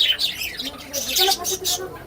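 A budgerigar twitters nearby in quick high chirps and warbles, lively and close.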